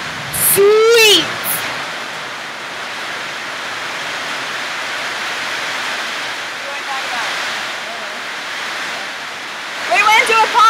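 A constant roar of heavy rain fills the space in Panama, loud and unbroken, while voices speak briefly at the start and again near the end.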